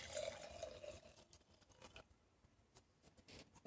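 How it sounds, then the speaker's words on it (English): Coffee poured into a cup, a bright liquid trickle at the start that fades into quieter faint drips and small clinks, close and soft. "So let me pull out the paper and pour myself a cup of coffee."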